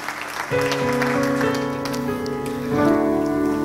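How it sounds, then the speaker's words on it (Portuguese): A church congregation applauds in a continuous wash of clapping, heard under sustained organ or keyboard chords that enter and swell. "Aplauda o Senhor"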